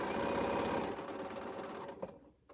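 A quilting sewing machine running fast, rapid mechanical stitching chatter that slows and stops near the end, followed by a couple of small clicks.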